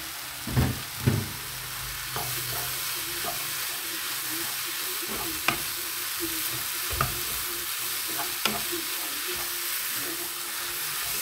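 Filling stirred with butter in a hot pan for savory stuffed briouats, with a constant loud sizzle and crackle punctuated by several sharp spoon knocks and scrapes against the pan.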